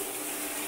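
Water runs steadily from a bathroom shower tap, a constant close hiss of spray with no pauses and no voices.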